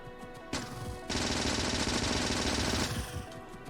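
Factorio turrets firing new ammunition in rapid, continuous automatic bursts, a dense loud rattle that starts briefly, pauses, then runs steadily for nearly two seconds before cutting off.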